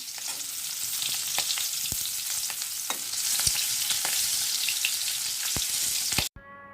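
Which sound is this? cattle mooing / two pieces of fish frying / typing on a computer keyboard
two pieces of fish frying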